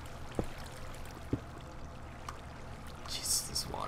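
In a Minecraft survival game, water flows with a soft, steady trickling rush under low background noise, while a player talks over it.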